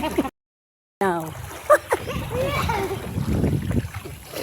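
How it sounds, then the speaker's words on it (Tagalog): River water flows and splashes near Tignoan bridge below the Sierra Madre mountains, a continuous wash with small splashes heard under children's and adults' voices. "Ito yung ilog dito sa amin."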